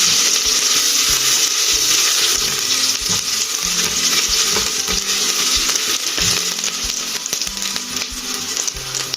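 Onions sauté in a pan for chicken soup, giving a loud, continuous bright sizzle and crackle with a few scraping stir sounds, and no voices.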